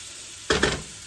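Butter hits a hot pan at the start of a cream sauce, two short bursts of close sizzling after a quiet lead-in.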